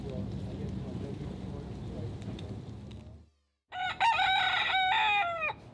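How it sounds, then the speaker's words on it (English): A rooster crows loudly and close by after a brief silence, following a stretch of steady low background noise. "I woke up to a rooster crowing in my ear"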